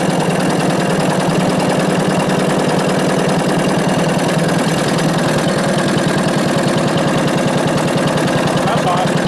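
An antique engine powering a corn grinder runs loud and close, a steady chugging, rumbling drone with a rapid, even beat that stays constant throughout.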